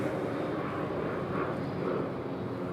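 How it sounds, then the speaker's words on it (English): An Airbus A330-300 airliner flying the downwind leg near Raleigh-Durham airport, a steady broadband engine roar that stays even and fairly distant throughout, with no talk over it. "A330-300, that one on the downwind of the airport, just behind us over here"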